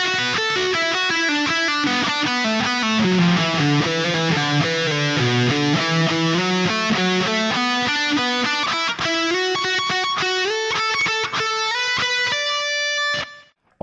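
Distorted electric guitar plays a solo, a loud, sustained run of fast, descending and rising melodic notes that ends abruptly with no talking.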